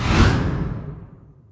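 A single loud swoosh from a sound effect layer for a game explosion, sweeping in strongly and trailing off smoothly over about a second and a half.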